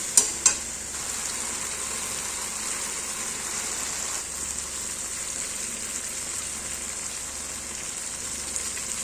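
Spices stir-frying in a pan for masala chilli paneer, a steady close hissing sizzle with a couple of sharp clinks at the start, no talk.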